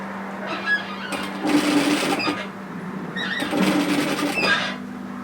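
A sewing machine stitching varsity bomber jacket fabric in two bursts of rapid, buzzing mechanical clatter, each lasting about a second, separated by a quieter pause with a low steady hum.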